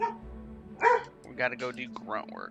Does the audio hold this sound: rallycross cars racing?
no